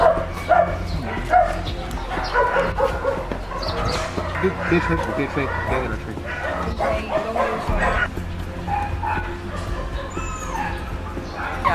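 Several dogs at a rescue camp bark, yip and whimper in a busy, overlapping chorus throughout, close and fairly loud, with a rooster-like call and people talking in the background.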